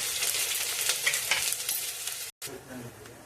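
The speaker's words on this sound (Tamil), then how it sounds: "ஆயில் சூடான பிறகு தாளிப்பு வடகம் ஆட் பண்ணிக்கோங்க" Tempering vadagam sizzles and crackles loudly in hot oil in a pan, close up, while being stirred, with a brief cut in the sound near the end.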